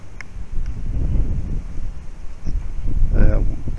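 Outdoor wind buffets a microphone in low rumbling gusts at an RC flying field, with a person talking intermittently over it.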